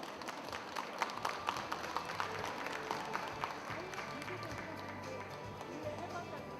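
Applause from the audience at the launch ceremony of a Buddhist cremation-ritual preservation society, a steady, fairly faint wash of clapping that continues evenly throughout.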